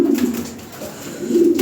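A pair of Lahori Sirazi pigeons, a big-sized red ash bar female and a male, coo in low repeated rolling phrases, close and clear, with a pause between two bouts.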